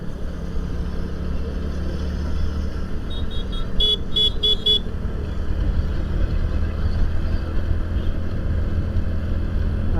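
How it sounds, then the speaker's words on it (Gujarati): Busy road traffic with a steady rumble of cars and bikes, and a short burst of several quick horn toots midway through. "કેટલો ટ્રાફિક છે રોડ ઉપર."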